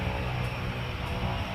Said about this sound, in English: He's gone for a engine test, which is what you're hearing.